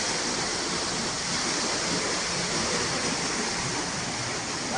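Water gushes continuously from a borewell pump motor's outlet, a loud, even, rushing roar close by with no pauses.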